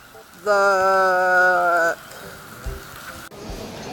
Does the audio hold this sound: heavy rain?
yes